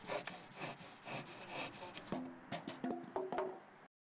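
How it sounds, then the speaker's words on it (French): An Egoin hand saw cuts through insulation board in close, rhythmic back-and-forth strokes, about a dozen rasping passes that end abruptly, with no talking. "Heureusement, c'est facile avec une scie Egoin."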